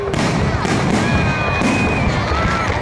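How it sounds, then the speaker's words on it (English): Fireworks at a food festival in Welland, Ontario burst in a dense, continuous barrage of booms and crackles with whistling streaks, loud and close, while a crowd chatters underneath. "So we see Tkron admiring those fireworks."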